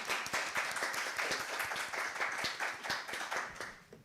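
Audience applause at the close of a university literary lecture, a dense wash of many hands clapping steadily for several seconds before thinning and fading near the end.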